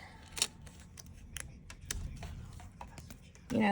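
Scissors cut through thin red acetate sheet in a short craft session, with a few sharp snips and rustles close to the listener and a louder handling noise at the end.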